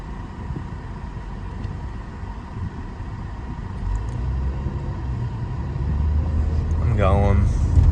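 Steady low engine rumble and road noise inside a car on the way to an oil change, building slightly louder toward the end with a brief whine near the close, no talking.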